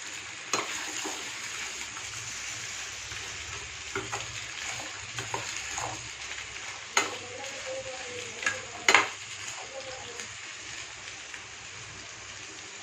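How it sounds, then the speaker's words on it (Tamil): Sweet rice puttu with coconut and field beans being stirred in a pan of spluttered mustard seeds: soft sizzling frying under steady scraping of a spoon, with a few sharper clinks and knocks against the pan, close and no talk. "நல்லா கிளறி விடுவோங்க."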